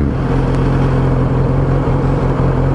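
A Kawasaki Z900RS motorcycle idles a few meters away in a residential area, a steady low engine rumble that stays even throughout with no talk.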